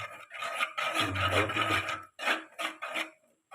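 Spoon scraping and rasping against a pan as rice flour is stirred into boiling water, a series of close, rough strokes with short pauses, no talk.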